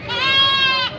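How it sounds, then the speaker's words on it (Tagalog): A goat at a livestock market gives one loud, close, drawn-out bleat lasting most of a second, with faint background murmur. "Ito, mga kambing na binibenta."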